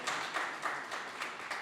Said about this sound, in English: Let's give her a round of applause also.